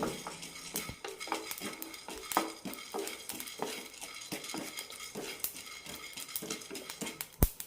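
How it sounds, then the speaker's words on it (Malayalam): Cumin seeds roast in a pan up close, with scattered crackles and pops under the steady scrape and clink of a stirring spoon, and no voices. "ജീരകം നന്നായി പൊട്ടുന്നവരെ റോസ്റ്റ് ചെയ്തെടുക്കണം"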